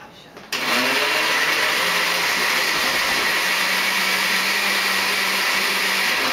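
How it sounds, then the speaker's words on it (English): A blender purees lasagna into a smooth texture, running as a steady, loud, continuous whir that starts abruptly after a brief quieter moment and holds without pause. "For this diet, the lasagna needs to be blended."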